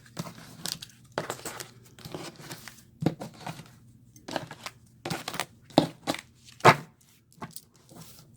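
A Modern Witch Tarot deck being cut by hand, with close, irregular bursts of card rustling, riffling and crinkling separated by short quiet gaps.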